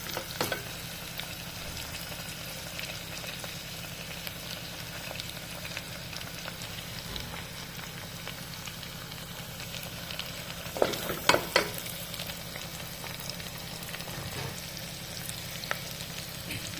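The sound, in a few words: chopped tomatoes frying with onions for mutton curry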